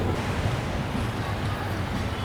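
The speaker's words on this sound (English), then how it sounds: "It's starting to rain and it's pretty windy here in Vallarta" Wind buffets the microphone in a steady, rough roar in Vallarta, with a dense hiss of rain mixed in, fairly loud throughout.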